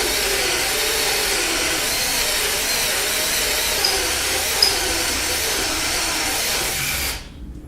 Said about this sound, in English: I'm being sloppy and pivoting the drill everywhere because I'm not trying to drive a neat hole